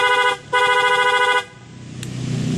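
An aftermarket dual contact horn on a Honda CBR motorcycle blasts twice, a short honk then a longer loud one, close by, before the idling motorcycle engine is left running.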